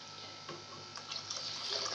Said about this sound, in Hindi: इसमें अपने हिसाब से आप देख देख के डाल लीजिए पानी के, अपने चावलों को कितना पानी लगेगा।